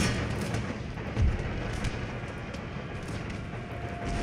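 Cannon artillery fire in Empire: Total War, a muffled battlefield din with one deeper boom early on and scattered distant reports, quiet and without talk.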